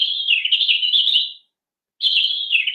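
A European robin sings in a garden, a bright, twittering run of high chirps lasting over a second, then a brief pause before the song resumes, close and clear with no voices.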